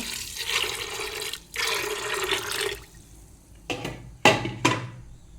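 Water gushes and splashes in two long bursts into a pressure cooker with chickpeas, followed by a few short sharp pours and clanks of the metal pot, close up with no talking.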